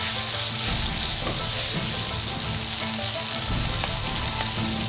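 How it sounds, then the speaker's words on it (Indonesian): Small chili peppers and drained black beans fry in a wok with a loud, dense, continuous sizzle and occasional stirring scrapes. "Pertama, goreng sedikit."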